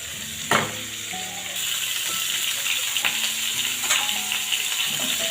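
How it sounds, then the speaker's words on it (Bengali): Cauliflower florets coated in turmeric fry in hot oil, a steady dense sizzle running throughout with a few sharper crackles and utensil scrapes near the pan. "আমি এখন বেশ করে ফুলকপিটা ভেজে নিব"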